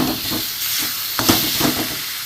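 Hot water poured onto sizzling spices with Kashmiri red chili powder in a pan sends up a loud, close steam hiss, broken by a few sputters and bubbling pops.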